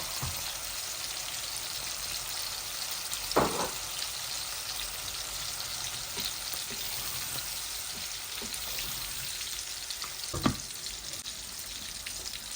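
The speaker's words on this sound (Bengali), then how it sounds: "এই যে খাট্টার মধ্যে আমি টমেটোটা দিয়ে দিচ্ছি।" Tomato frying in a pan for tomato khatta curry makes a faint, even background sizzle with two brief louder clatters, heard alone without voices.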